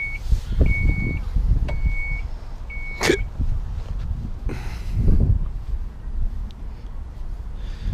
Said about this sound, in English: Power rear shutting hatch.